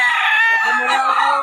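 A rooster crows loudly and close, one long drawn-out call filling the whole moment.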